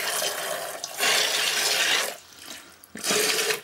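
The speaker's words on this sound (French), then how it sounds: "j'ai un jet d'eau, donc pour mélanger c'est un peu plus simple" A water jet pours into a concrete mix being prepared for casting an ant nest, a loud continuous rushing splash that briefly eases and then surges again, with no talk.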